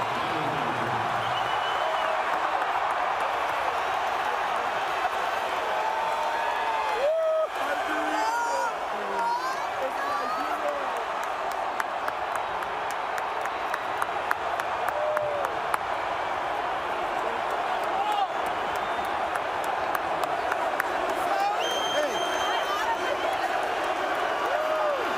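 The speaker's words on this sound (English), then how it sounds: "all I could hear was cheering, not boos." A big stadium crowd at Williams-Brice Stadium cheers in a steady, dense roar that holds for the whole stretch, with voices blending into a continuous wash and scattered louder shouts and claps rising through it.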